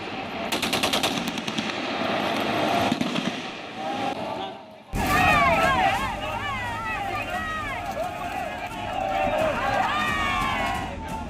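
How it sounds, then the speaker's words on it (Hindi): A street protest in Mirpur, Pakistan-administered Kashmir, against the Shehbaz government: a dense, loud crowd roar with a burst of rapid sharp cracks at first, then many raised voices shouting slogans together after an abrupt cut. "सड़कों पर उमड़ी लोगों की भीड़, शहबाज सरकार के खिलाफ नारेबाजी"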